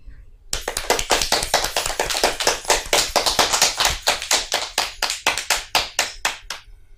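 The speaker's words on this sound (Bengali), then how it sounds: "সবাই মিলে তাহলে এখন ডোনার জন্য জোরে হাততালি হবে" An audience at a children's singing show claps, starting abruptly and running as steady applause before thinning into separate claps toward the end; a voice is heard over it.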